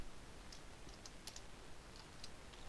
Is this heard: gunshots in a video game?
no